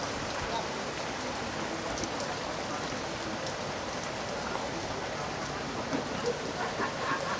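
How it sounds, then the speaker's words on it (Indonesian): Steady rain falls at an outdoor Javanese food stall in Serpong, a constant close patter and hiss that fills the whole span with no talk over it. "Nah, di sini turun hujan, guys. Jadi suasana tambah syahdu."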